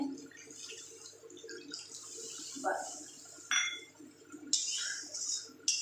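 Water poured into a pan of fish curry, a close trickle and splash with small clinks of a utensil against the pan, fairly quiet and intermittent.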